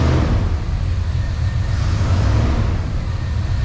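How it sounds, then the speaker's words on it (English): An old truck engine, running for the first time after sitting unused for more than ten years, gives a loud, steady, low rumbling idle. It holds an even drone throughout with no voices. "I haven't heard this truck run in 20 plus years."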